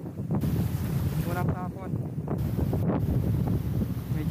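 Strong headwind blowing while light-casting for fish from a boat on the water, a loud, constant roaring rush with heavy microphone buffeting throughout, and someone speaks briefly over it.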